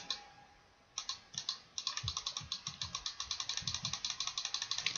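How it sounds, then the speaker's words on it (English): A computer mouse clicked rapidly and repeatedly while staking in Old School RuneScape, a steady stream of sharp close-up clicks that starts in a few bursts and then settles into a fast, even rhythm, with no voices. "Spam clicking helps."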